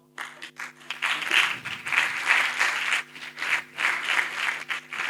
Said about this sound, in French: Je sens vos applaudissements moins chaleureux